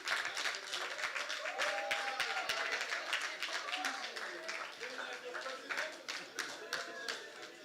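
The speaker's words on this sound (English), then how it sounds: "Round of applause for Tendai," Applause at a finance leadership forum, a crowd clapping steadily for several seconds, loud and continuous with sharp individual claps standing out, voices murmuring beneath.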